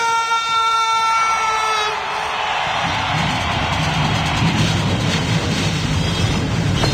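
Simulated NASCAR Cup stock car engines firing up and roaring together at Texas World Speedway in the NR2003 racing game, a broad loud rumble swelling in after a siren-like tonal whine fades over the first seconds.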